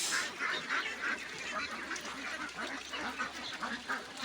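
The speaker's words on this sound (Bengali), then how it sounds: "বর্তমানে হাঁস এখানে আছে পাঁচশো এগারো পিস" A flock of ducks on a duck farm quacks continuously, many overlapping calls and honks forming a dense, close chorus.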